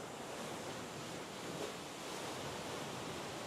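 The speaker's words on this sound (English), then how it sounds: "Still pretty crazy waves right now." Typhoon-driven ocean surf in the Philippines roars as a steady, dense wash of crashing water, close and continuous without a break, and no voices are heard.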